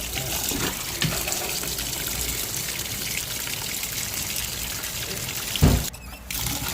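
Water poured over fish in a home kitchen in Jaffna while Maldives fish is being made, a steady trickle and splash running throughout with a brief louder knock near the end.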